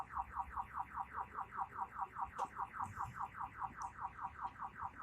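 A parked car's alarm wails in a steady rapid warble of repeating pulses, loud and continuous with no talk, a couple of brief clicks over it.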